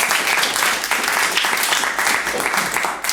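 An audience claps lightly and evenly through a drumming masterclass, a dense steady patter of many hands with a voice faintly underneath.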